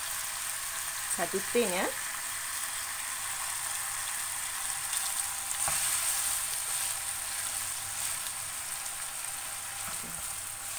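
Carbonara sauce hits a hot pan while making spaghetti carbonara, giving a steady close frying sizzle throughout, with a brief voice speaking early on.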